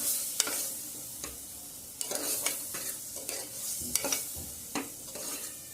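Chicken mixture with ground spice paste stirred in a pan over medium gas for chicken pulao, a soft, low sizzle under repeated scraping and knocking of a spoon against metal, moderately quiet and close, without talk.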